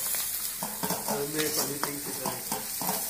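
Vegetables for veg fried rice stir-frying with chilli powder in a hot pan, a steady close sizzle broken by repeated scraping strokes of a spatula, with a brief spoken word over it.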